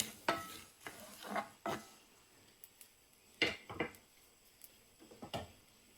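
Mustard seeds popping in hot oil for a Kerala pumpkin curry: scattered quiet pops and crackles in small irregular clusters, with no talking.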